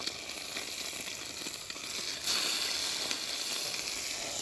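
A fish fillet sears in a hot pan, giving a continuous, fairly faint sizzle with a fine crackle that swells a little partway through.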